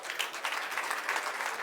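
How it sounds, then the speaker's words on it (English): An audience at a tech summit pitch event applauds to welcome a startup presenter to the stage, a brief burst of dense, even clapping from a crowd. "Please give her a warm round of applause"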